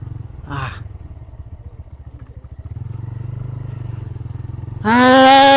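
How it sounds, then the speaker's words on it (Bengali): A motorcycle rides through a mustard field, its engine putting out a steady low pulsing drone that firms up midway, with a brief clatter early on and a louder tonal burst near the end. "সরিষা খেতের ভিতর দিয়ে বাইক চালাচ্ছি"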